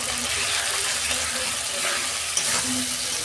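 Chicken with chili powder and salt sautés in a pan, giving a steady, close, dense sizzle with a faint low hum underneath and no talking.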